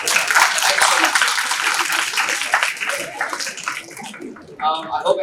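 An audience at a university orientation day applauds the speakers, a broad wash of clapping from many hands that fades out toward the end, with voices and cheering mixed in.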